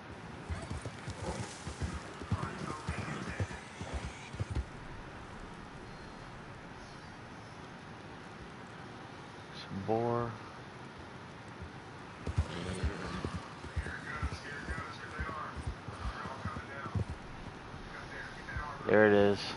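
A horse in Red Dead Redemption 2 clip-clops along at a walk with rhythmic hooves, snorting and whinnying now and then, while someone talks over it.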